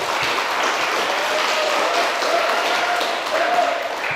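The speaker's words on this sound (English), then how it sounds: "please give the applause for the all speakers and for all of you" An audience at an international elementary-education conference applauds the speakers, producing sustained, even clapping that fills the hall with a steady wash of sound for several seconds.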